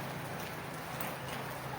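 Heavy rain pours steadily, a dense, continuous hiss of drops hitting surfaces with no pauses or voices.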